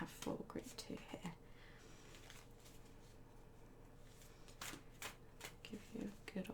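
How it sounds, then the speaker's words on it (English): Tarot cards being shuffled in quick riffling bursts, crisp and close, with a few pauses between shuffles and faint background hum. "Give you a good old shuffle."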